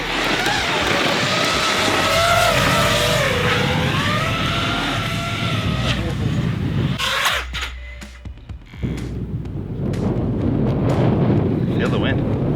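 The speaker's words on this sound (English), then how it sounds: "Feel the wind." Strong wind buffets the microphone outdoors on a rural property, giving a loud, steady roar with an engine-like drone that carries through most of the clip and dips briefly near the middle.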